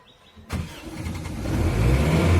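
A car engine cranks and catches at a driving training school, a sharp onset followed by a steady, rising idle rumble that fills the short clip up close, with no talk.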